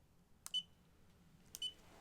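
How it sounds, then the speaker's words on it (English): A Marelux Apollo S underwater photography strobe gives two short, high electronic beeps about a second apart, each with a faint click as the power setting changes, close and quiet with no talk. "It beeps when you change the power."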